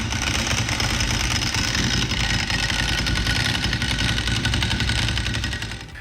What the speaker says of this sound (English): The sound of this V-twin and what Ducati sound like, you cannot imitate that.